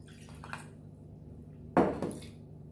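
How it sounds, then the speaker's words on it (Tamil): Water poured into a bowl of ground semolina and yogurt batter: a soft, brief splash and gurgle lands midway after quiet kitchen background, then tapers off. "தேவையான அளவு தண்ணி விடணும்."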